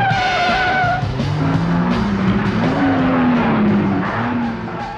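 A car passes with tires skidding and squealing in a high, sweeping whine over continuous loud engine and road noise, sustained across the whole span.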